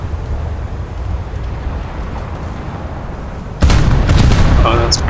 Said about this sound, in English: No, someone is shooting at me.